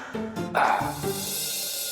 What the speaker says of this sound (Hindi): काली रात में काला कुत्ता क्यों भौंकता है?